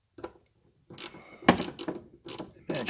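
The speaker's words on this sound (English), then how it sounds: "last step is to tighten up all the 3/8 nuts on the gears here" A wrench tightens 3/8 nuts on the windshield wiper gears of an MGB, giving several short, close bursts of ratcheting and scraping metal, separated by brief pauses.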